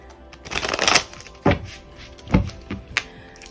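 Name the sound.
shuffling tarot cards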